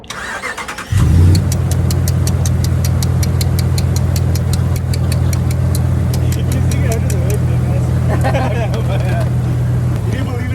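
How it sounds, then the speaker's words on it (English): A Ram 1500 pickup truck engine cranks briefly, catches loudly, then settles into a steady, close idle with a rapid ticking running through the rumble. "now let me turn on my truck and see if it turns on"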